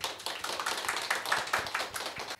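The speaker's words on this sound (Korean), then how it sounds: "여러분 큰 박수 부탁드립니다" Audience applause at a Korean mentoring talk concert, a short burst of close, crisp hand clapping from a modest crowd that cuts off abruptly at the end, with no voices.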